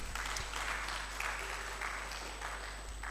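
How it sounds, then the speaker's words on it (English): Audience applause at a graduate research policy forum closing ceremony, a soft, steady spread of clapping in a hall that goes on for the whole stretch, fairly distant, with a faint hum underneath. "Give Professor a hand clap that befits a professor."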